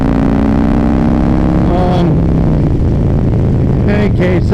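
A Harley-Davidson M8 124 with a stage 3 build and a Redshift 468 cam rolls on the throttle and accelerates. Its loud, close engine drone is steady with a deep pulsing roar and shifting harmonic pitch, and it fills the whole stretch.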